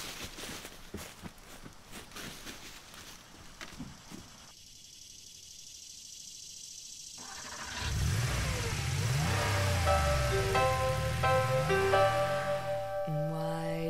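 Footsteps and rustling give way to a car door, then a pickup truck engine starts and revs as it pulls away, followed by music.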